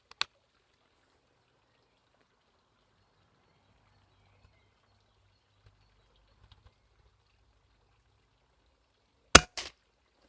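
A single sharp report from an Artemis P15 air rifle fired near the end, loud and close, after a long near-silent stretch with faint low rumble.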